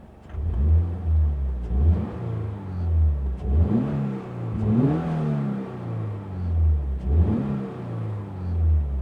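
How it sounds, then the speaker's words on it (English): Toyota GR86 with a newly installed aftermarket exhaust, heard from inside the cabin as the engine is revved in repeated rising and falling swells, about four blips spread evenly across the stretch. "I'm gonna rev the car from inside so you guys can hear real quick"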